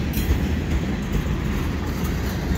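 A CN freight train of flat cars rolls steadily past nearby, a continuous low rumble and rattle of wheels on track with no pauses or voices.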